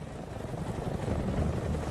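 Rotor thump and engine roar of an RAF Chinook HC2 twin-rotor military helicopter, a steady, loud, continuous drone with low-frequency beating throughout.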